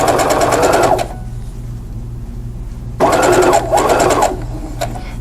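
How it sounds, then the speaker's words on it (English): A sewing machine stitches quilt fabric in close, loud bursts: a fast run of stitches, a quiet pause with a low motor hum, then another longer run with a brief slowdown partway through. "And you're going to sew to where you back stitched."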